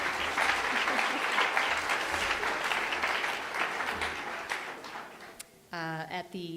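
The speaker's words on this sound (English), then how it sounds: "And I think we should applaud that one." Audience at a talk on agriculture and the triple bottom line applauding, dense close clapping sustained for about five seconds before fading, followed by a speaker's voice resuming.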